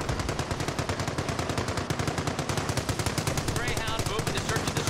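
A .30 cal machine gun in the World War II strategy game Company of Heroes fires a loud, continuous rapid stream of shots, dense and close, with faint voices underneath.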